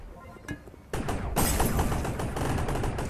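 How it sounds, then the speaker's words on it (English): Rapid gunfire from the online shooter game Gun Raiders erupts into a dense, loud burst of repeated shots after a quieter opening, continuing steadily to the end. "I keep hearing gunshots, but I don't see the gun."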